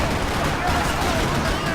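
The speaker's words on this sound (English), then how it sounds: "Another parking lot rattling with gunfire." Dense, continuous gunfire rattles through a parking lot during a gang war in the video game Max Payne 3, a steady wash of overlapping shots with no clear pauses.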